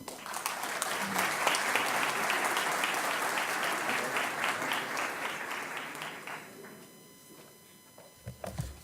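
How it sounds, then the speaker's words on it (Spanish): An audience at an international judicial forum applauds a federal magistrate, a sustained dense wash of clapping that holds steady for several seconds, then fades to quiet with a few thumps near the end. "Un aplauso para él"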